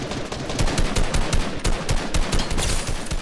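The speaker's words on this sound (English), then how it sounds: "I hear shooting." Rapid bursts of video game gunfire crackle densely and loudly throughout, an almost continuous automatic-weapon barrage with overlapping shots and no talk.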